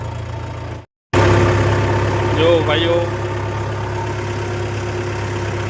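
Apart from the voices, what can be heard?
tractor engine running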